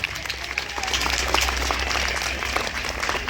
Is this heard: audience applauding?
yes